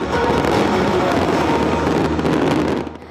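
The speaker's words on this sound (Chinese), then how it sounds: "利雅得半暝的空中是开始放庆祝的烟火" Celebration fireworks burst over Riyadh at night, a dense, continuous crackle of many overlapping pops and bangs that holds steady and loud and then eases off at the end.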